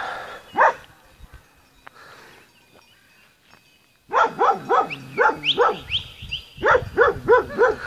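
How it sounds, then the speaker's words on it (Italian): A shepherd dog guarding goat territory in the Molise highlands lets out one bark, goes quiet, then breaks into a run of loud, rhythmic barks and yelps close by, with someone talking briefly early on. "Cane pastore."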